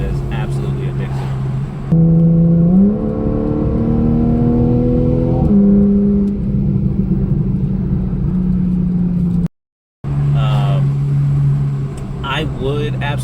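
2013 Porsche 911 (991.1) engine revving loudly, its tone rising in steps through the revs and then settling, with a brief cut of silence before more engine noise and a person talking over it.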